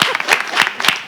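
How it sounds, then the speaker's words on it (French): Brief burst of audience applause on a French television talk show, loud and close, with a few distinct sharp claps standing out over a dense wash of clapping for about a second. "Allez, on applaudit"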